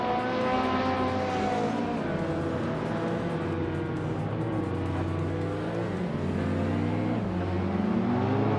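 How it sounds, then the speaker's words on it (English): A 1984 Ferrari 288 GTO racing in a video game, its engine droning steadily with shifting revs as other cars roar close alongside, a constant, loud mechanical hum without speech. "Squat Bender is driving a 1984 Ferrari 288 GTO and is currently in 2nd place"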